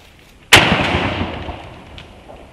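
Shotgun fired at a turkey pattern target from about 40 to 45 yards outdoors during a Nebraska turkey hunt; a single loud, sharp blast with a long echoing decay.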